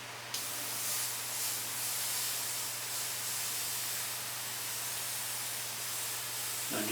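A continuous airbrush spray hisses steadily at close range, a smooth airy rush with a faint low hum underneath and no talking.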